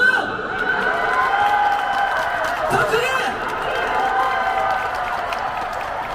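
Concert crowd at an outdoor trot music festival applauding and cheering, steady clapping with a sustained tonal drone under it, fairly loud throughout and easing slightly toward the end.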